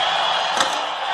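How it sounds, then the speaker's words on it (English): Crowd noise fills a basketball arena during a Carolina at Miami game as a player steps up for free throws: a loud, steady roar of many voices with a brief swell near the middle. "asking for noise from the crowd"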